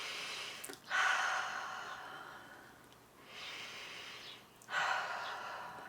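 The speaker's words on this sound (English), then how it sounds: "Big breath." During gentle chair yoga, a person takes slow, audible breaths, with three soft airy inhales and exhales in a calm rhythm, close and quiet with no talking.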